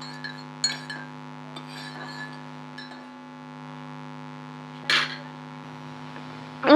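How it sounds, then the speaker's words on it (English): A spoon scooping sugar and stirring it in a cup gives a few sparse, light clinks, close but soft, over a steady electrical hum. "I'll be using the same spoon to get the sugar and to stir"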